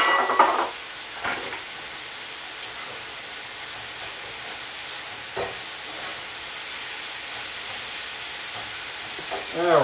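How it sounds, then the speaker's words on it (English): Shrimp and pork fajita filling sizzling steadily in hot oil, a constant bright hiss with a few brief clatters of stirring near the start and middle. "Now we're getting a good sizzle."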